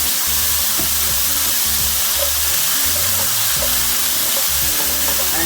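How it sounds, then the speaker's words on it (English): Three-bean vegetable salad with dried parsley being stir-fried in a pan, a loud continuous sizzle with repeated scraping and stirring strokes close up, no voices. "Just stir fry."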